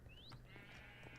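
Minecraft sheep bleating once in the video game, a short wavering digital baa near the start, fairly quiet, followed by faint game ambience and a small click at the end.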